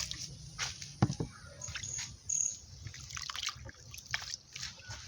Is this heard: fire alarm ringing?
no